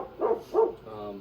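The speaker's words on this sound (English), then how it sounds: "obviously you can hear our dog in the background." A dog outside a yurt gives two short, muffled barks in quick succession, followed by a softer drawn-out whine, heard from a moderate distance.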